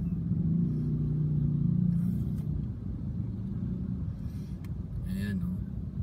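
Rush-hour car traffic at night in Taguig, a steady low rumble of engines idling and creeping from inside a Mitsubishi Xpander, with faint passing vehicle noises; someone talks over it.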